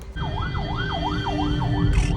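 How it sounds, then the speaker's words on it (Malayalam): Ambulance siren wailing in a steady rising-and-falling cycle, loud and close, with a low engine rumble underneath and a brief burst of noise near the end. "ആംബുലൻസ് ആണേ പേടിക്കണ്ടേ"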